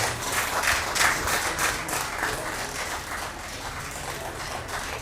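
An audience at a university senior staff club panel gives a steady round of applause, moderately faint and even, with many hands clapping together and little speech.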